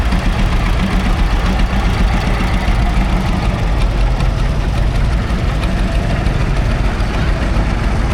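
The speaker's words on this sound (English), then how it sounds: "Both of them are super nice tractors." An antique tractor engine idles loud and close at an antique agricultural show, a steady low rumbling chug with a knocking pulse that runs unbroken throughout.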